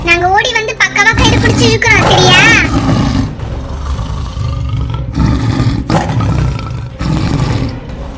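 A cartoon tiger lets out loud, drawn-out roars, layered with animated character voices and music in the scene's busy soundtrack.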